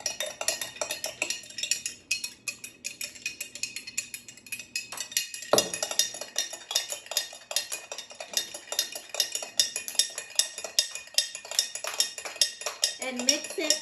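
A solution being mixed in a container, with rapid repetitive clinking and scraping of a stirring utensil against the vessel, close and steady throughout, with no talk.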